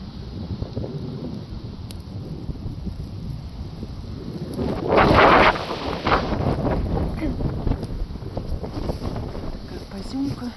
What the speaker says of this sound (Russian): Вьюга, январская вьюга. Гудит январская вьюга.